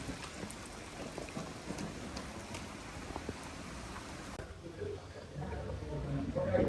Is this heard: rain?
yes